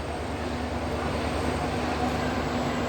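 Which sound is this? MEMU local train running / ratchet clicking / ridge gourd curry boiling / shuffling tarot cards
MEMU local train running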